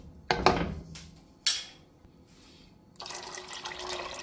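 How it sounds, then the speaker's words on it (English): Water runs from a tap into a pot of overnight-soaked peas for Jamaican rice and peas, after a few sharp knocks of the pot being handled; the stream starts near the end and flows steadily and fairly loud. "I'm just putting some more water in my pot."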